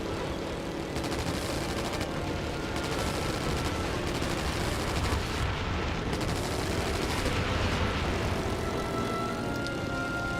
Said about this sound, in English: Bombs are away.